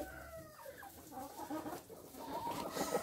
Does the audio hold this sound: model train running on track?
no